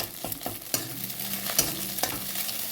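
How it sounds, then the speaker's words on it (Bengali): An egg fries in oil in a pan while chowmein is being made, with a close, continuous sizzle and crackle and several sharper spatter pops and stirring scrapes. "দেখো প্রায় ডিমটা ভাজা হয়েই গেছে,"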